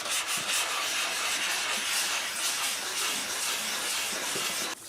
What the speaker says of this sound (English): just putting 1000 grit on the neck right now